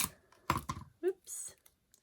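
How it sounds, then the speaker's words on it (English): A handheld tape runner lays adhesive on paper for a card project, giving a few faint, quick clicks and a short zipping rasp. A brief voice-like sound comes before the clicks. "So I'm going to glue him down with a tape runner."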